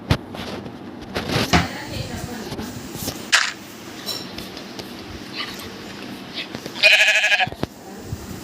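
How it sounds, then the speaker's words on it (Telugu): A Minecraft sheep gives a short, buzzy bleat near the end, after scattered in-game clicks and shuffles, with a voice talking faintly underneath. "నువ్వు ఎందుకు వచ్చినవే షీప్"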